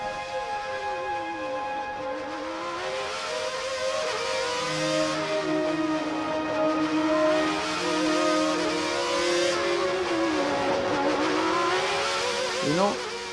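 Formula 1 car on an onboard lap around the Monaco street circuit, its high-pitched engine screaming continuously up and down through the gears, loud and close throughout.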